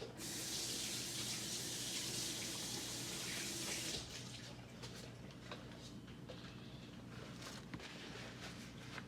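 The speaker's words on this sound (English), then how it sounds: "You can rinse your hands if you need to." Tap water pours into a kitchen sink for about four seconds while hands are rinsed, loud and close, then cuts off, leaving faint room noise and small clicks.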